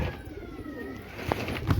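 Racing pigeons coo steadily at close range, a low soft throaty murmur over a busy outdoor backdrop, with a brief sharper call near the end.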